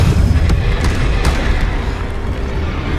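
Bombarda blasting spell from the video game Hogwarts Legacy, a loud sustained boom with deep rumbling low end and crackling debris over three seconds, steady in level with no clear gap.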